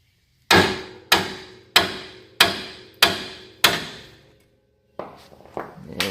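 Six sharp, ringing hammer blows strike the steel spindle of a 2008 Toyota Tacoma at an even pace to pop the ball joint free, followed by a few lighter metallic knocks and clatter.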